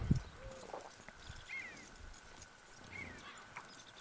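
Faint hoofbeats and a brief horse whinny from a wild horse being calmed in the game Red Dead Redemption 2, heard low against quiet ambient background.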